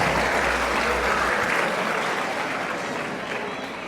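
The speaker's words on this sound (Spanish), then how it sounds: "Démosle un fuerte aplauso para este hermano que viene a compartir con nosotros" A church congregation gives a strong round of applause to a visiting brother, steady and dense clapping filling the room for about four seconds and tapering slightly at the end.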